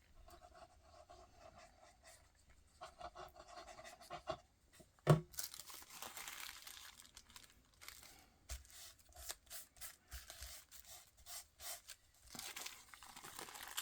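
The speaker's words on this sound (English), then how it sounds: "We're now going to cover this in the tissue paper." Tissue paper being crinkled and pressed over a punched paper hexagon in a papercraft project, with intermittent close rustles, crackles and tearing bursts, one sharp louder crunch partway through, quiet otherwise and no talking.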